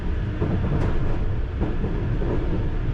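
A London Underground Piccadilly line train coasts downhill at about 20 mph near Kings Cross, giving a steady, moderately loud rolling rumble with faint wheel clicks for a few seconds, no talk.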